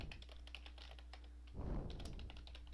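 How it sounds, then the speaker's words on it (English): A password goes in on a computer keyboard as soft, quick key taps under a steady room hum, with one duller thump from a key or the desk partway through. "make sure I type it right."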